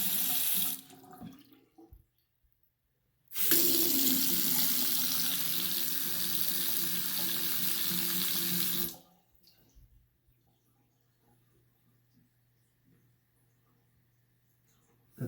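A vanity sink faucet runs water steadily into the drain for several seconds, close and even, then shuts off, leaving near silence.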